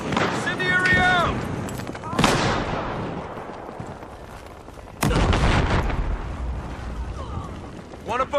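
Incendiary grenade blasts and gunfire in a tactical police video game, two heavy booms with rolling tails plus scattered shots, while voices speak over the action.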